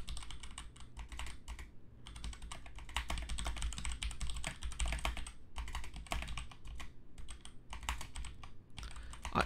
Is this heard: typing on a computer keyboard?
yes